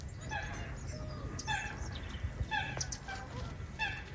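Waterfowl call out across a soggy marsh, honking and quacking in scattered bursts of two or three notes at a moderate distance over a low, steady background rumble.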